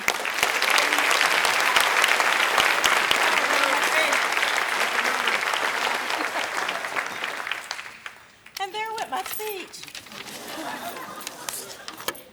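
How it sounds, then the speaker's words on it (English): An audience at a chamber of commerce membership banquet breaks into loud, sustained applause for about eight seconds, then it dies away and a voice begins speaking. "if you would please join me in a round of applause"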